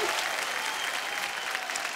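An audience at the IBFA 2019 awards show in Singapore applauds in a steady, even wash of clapping from many hands for the whole brief stretch.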